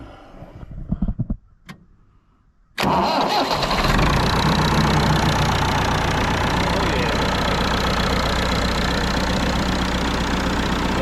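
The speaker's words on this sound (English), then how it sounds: "see if we can get the old tractor to start." An old farm tractor cranks briefly, stops, then its engine catches and settles into a loud, steady idle that runs without a break; a few clunks come before the start.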